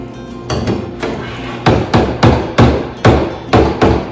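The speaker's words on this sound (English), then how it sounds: "Remember, always burp the blender, always." Blender pulsing a thick soap batter in short bursts, about eight sharp, loud, evenly spaced mechanical thumps with a grinding whir between them, close and without any talking.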